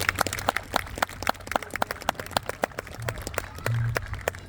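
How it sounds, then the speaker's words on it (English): Audience applauding a jazz musician at a high school jazz band performance: scattered, fairly light clapping from a modest crowd, irregular sharp claps continuing steadily with a brief louder swell near the end. "So another round of applause for Chase Whalen"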